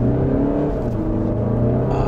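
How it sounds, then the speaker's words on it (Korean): An Audi Q3 Sportback 35 TDI diesel launching hard in dynamic mode with the gear lever in sport, its engine droning loudly and steadily from inside the cabin as it accelerates, with no talking. "드라이브 셀렉트에 다이나믹 그리고 변속 레버 스포츠를 놓고 출발합니다."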